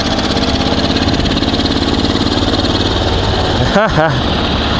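A Ural (Dnepr) motorcycle engine runs steadily after a carburetor change, a loud, close, uneven chugging drone that briefly revs up and drops near the end.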